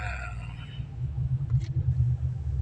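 Road traffic on a congested Makati street, heard from inside a car: a steady low engine and road rumble that swells slightly midway, with no talk.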